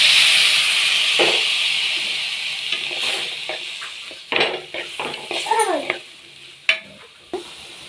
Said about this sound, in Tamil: சிம்மிலையே வச்சு தான் இதை நல்லா பொரிக்கணும்.